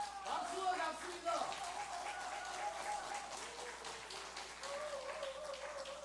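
Applause from a gathered audience at a Korean history forum, a steady patter of clapping heard at moderate distance with voices and a faint tonal sound running beneath it.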